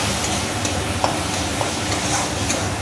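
Potato and tomato curry stirred in a pan, a steady close scraping and sizzling with faint utensil taps, no voices.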